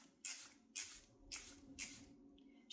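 Charlotte Tilbury setting spray misted from a pump bottle, four short hissing bursts in a steady rhythm, close and fairly soft, with no talking.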